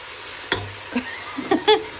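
A few quick scraping strokes of a spoon stirring red chilli powder and spices in a pan, spaced irregularly, over a faint low sizzle.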